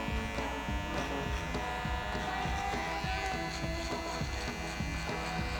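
Electric hair clippers buzz steadily and close up through a basic barber's haircut, a continuous motor hum with faint clicks of cutting and no talk.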